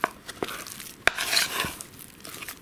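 A spoon scrapes and clinks against a pot while stirring flour into boiling oil and water, with a faint sizzle underneath and a few sharp metallic knocks.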